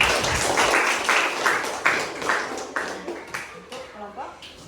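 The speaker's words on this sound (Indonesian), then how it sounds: "Tepuk tangan untuk kelompok 2." A classroom of students claps for a group in an Islamic religion lesson on prayer, the applause coming in repeated short bursts that swell and fade, with a teacher's voice speaking over it.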